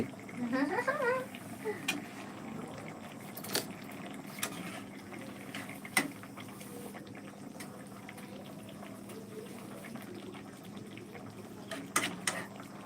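Fish pieces cook in bubbling curry in a kadai, the liquid simmering with a low continuous bubble and scattered sharp pops and spatters throughout.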